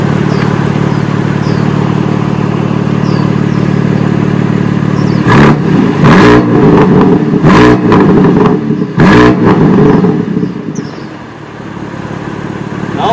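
A BMW G80 M3 Competition with the M Performance exhaust idles with a deep rumble, then is blipped in about four sharp, loud revs close by, each spiking and dropping back before settling to idle.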